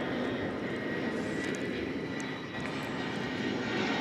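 An airliner arriving at DFW Airport from San Antonio, Texas, gives a steady, fairly distant broadband jet roar, heard alone without voices.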